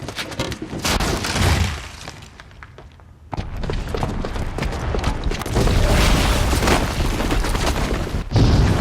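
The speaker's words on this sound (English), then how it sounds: "the booby trap on the bomb downstairs is gonna get set off" Booby-trapped bomb exploding in the Horizon Zero Dawn video game, with a loud boom, crumbling and shattering debris, a brief drop to near quiet, then sustained rumbling destruction close by.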